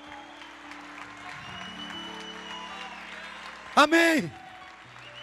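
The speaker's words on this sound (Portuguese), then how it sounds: "Quem quer aplaudir o Senhor e dizer que toda honra e toda glória é o seu nome?" A church congregation applauds steadily as broad, continuous clapping spread across the room, with a brief spoken exclamation breaking through near the end.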